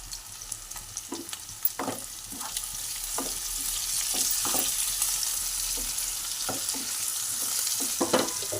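Onions and spices fry in a pan for a fish kofta curry, a continuous sizzle that swells louder midway, broken by repeated scraping stirs and a few clinks of a spatula, with no talking.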